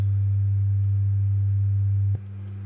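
A steady low sine tone of about 103.6 Hz plays through speakers, loud and constant, then shifts abruptly in level near the end as the playback switches between one and two speakers, with no talking.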